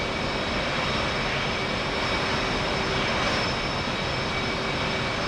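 An F/A-18C jet engine running in the DCS flight simulator game, a steady, loud broadband roar with a faint whine, continuous and unchanging throughout.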